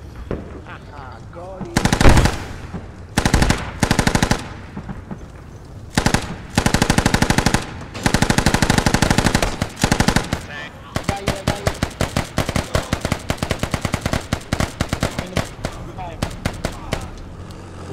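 Machine gun fire from an MT-LB armored vehicle in the game Squad: long, loud, close bursts of rapid shots with short pauses, ending in a sustained rattling stream, with players talking over it.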